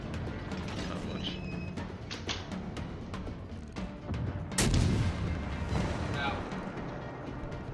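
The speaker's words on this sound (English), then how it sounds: "Uh oh, the guns are turning." Heavy mechanical grinding and clanking as big warship gun turrets rotate in World of Warships, with sharp booms of gunfire breaking through around the middle, under a constant busy game soundscape.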